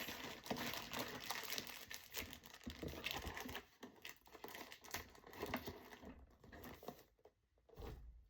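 Quiet, close crinkling and rustling of paper being handled indoors, with irregular soft crackles and small taps.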